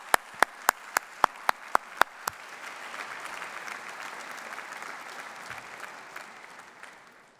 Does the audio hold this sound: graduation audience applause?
yes